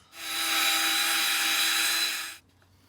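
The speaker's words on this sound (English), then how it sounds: "You have to give me a minute while I scrape some of this carbon off" Carbon is scraped off a motorcycle engine barrel with a steady, whining, buzzing grind lasting about two seconds that starts and stops abruptly, close and alone.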